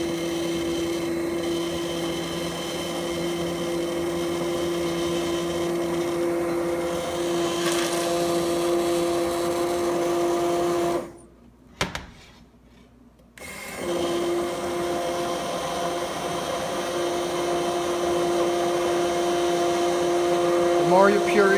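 An immersion blender purees pea soup with fresh mint in a pan, a loud steady whirring motor that cuts out briefly for a couple of seconds and then starts again, with people talking over it.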